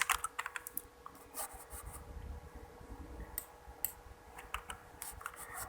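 Typing on a computer keyboard at a desk, irregular bursts of close, crisp key clicks with short pauses between words, steady and fairly quiet with no speech.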